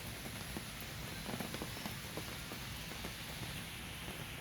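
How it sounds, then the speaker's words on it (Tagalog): Sudden heavy rain pours at Manila Memorial Park, a faint, steady hiss of drops spattering on surfaces with no talking. "Ngayon biglang buhos ng ulan oh."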